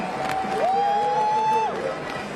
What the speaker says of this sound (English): This massive grandstand here in Oestersund, just giving the athletes a wonderful reception